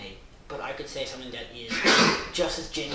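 A single sharp sneeze bursts out mid-conversation during a casual talk-show discussion, with people speaking before and after it.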